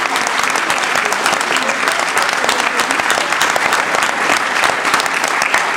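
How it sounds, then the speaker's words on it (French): A theatre audience breaks into thunderous, continuous applause, dense and loud clapping from start to finish with the crowd filling the hall. "Un tonnerre d'applaudissements."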